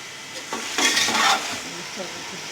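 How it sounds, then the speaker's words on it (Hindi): Chicken vegetable pulao fries on a high flame, giving a steady close sizzle with a louder burst of frying and stirring in the middle, plus faint scrapes of a utensil in the pan. "अब हम इसे तकरीबन 5 मिनट हाई फ्लेम पे ही इसे भूनेंगे"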